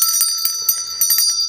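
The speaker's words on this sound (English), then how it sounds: "Got to ring the bell." A small bell rings repeatedly in quick, bright, close strikes, each with a shimmering high ring that overlaps the next, loud and clear with no talking.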